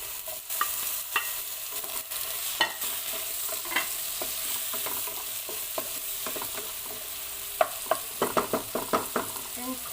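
Chopped tomato hisses and sizzles in a pan of sautéed onion for aloo masala, a steady frying sizzle broken by clattering scrapes and taps of a spoon stirring, quickest near the end.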